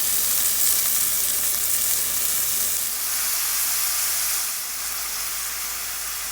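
Garlic sizzles steadily in a pan with golden-browned seafood for a Portuguese cataplana stew, a close, continuous frying hiss that softens slightly toward the end, with no talking.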